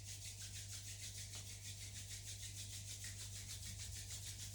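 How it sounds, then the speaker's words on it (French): Palms rubbed together with eyes closed during a yoga class, a steady soft friction swish that runs unbroken and faint throughout, with no voices over it. "on essaie de garder les yeux fermés, on frotte les mains ensemble"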